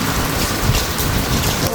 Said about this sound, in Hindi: देखिए बारिश तो बंद होने का नाम ही नहीं ले रही